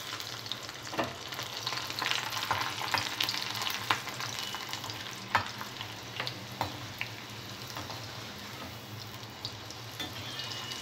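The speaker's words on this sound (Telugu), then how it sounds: "పల్లీలు ఫ్రై చేసుకున్న తర్వాత వెల్లుల్లిపాయ ఫ్రై చేసుకోవాలి." Garlic frying in a pan for a crispy sabudana chivda snack, a steady bubbly sizzle with occasional stirring clicks and scrapes, close and moderately loud, no talking.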